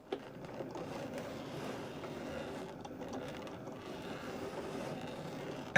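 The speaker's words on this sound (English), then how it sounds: "we can select go and begin cutting" A Cricut cutting machine cuts a wood sign design, giving a steady low mechanical whirring and clicking of the moving carriage and rollers that runs continuously, moderately quiet with no talk.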